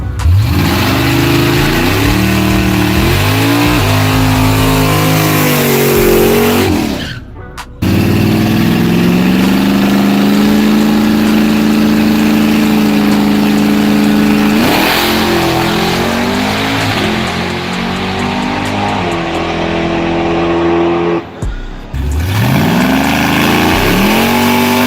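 A supercharged Dodge Demon engine revs hard and loud at close range, climbing and holding high revs in long pulls with short drops to near silence between them.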